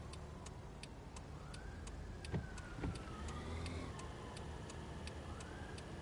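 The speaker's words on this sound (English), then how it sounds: "See how you're hearing the sirens and that?" In the video game Taxi Life, a siren wails steadily in the background while a car engine hums, with a regular ticking sound running throughout.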